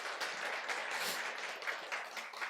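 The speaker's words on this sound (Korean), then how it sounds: "우리 큰 박수 우리 맞이하도록 감사하겠습니다." A church congregation applauds to welcome a new member, a sustained wash of many hands clapping at moderate volume with no voices over it.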